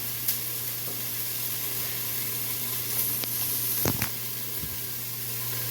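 Garlic and onions sizzle in a hot pan with a steady soft hiss and crackle, and a few sharp scraping stirs come close together near the middle.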